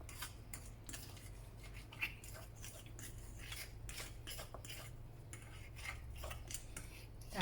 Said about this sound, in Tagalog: Tapos, mix lang natin ulit.